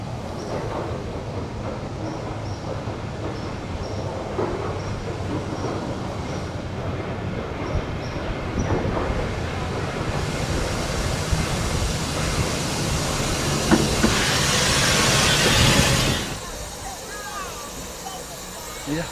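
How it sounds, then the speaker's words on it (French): A miniature coal-fired steam locomotive at a small model station in Kent rumbles and clanks along the track, with a rising hiss of steam near the end, under people talking nearby. "cette gare miniature où les locomotives fonctionnent vraiment en charbon et à la vapeur"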